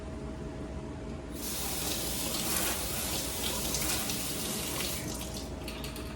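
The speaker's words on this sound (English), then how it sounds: "I also really appreciate a quick rinse of the screen" Running water from a tap rinsing the screen of a Lavex floor scrubber, a steady close hiss of splashing flow that starts abruptly and continues evenly to the end.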